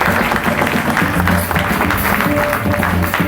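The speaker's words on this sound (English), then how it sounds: "Give them a big round of applause." Dense, sustained clapping and cheering from an audience at a live show in Orange Hall, loud and continuous throughout with no pauses.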